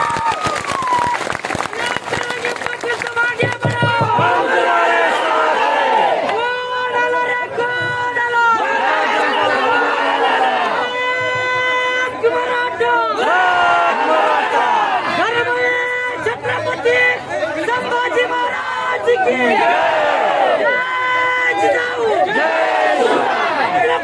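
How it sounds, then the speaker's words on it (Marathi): A large crowd at a grand procession in Hajipur for Mahant Shivaji Maharaj and Manoj Jarange Patil roars with loud, continuous cheering and rhythmic shouted chants, with voices rising in repeated waves close by. "जोरदार टाळ्यांचा जल्लोष करायचा"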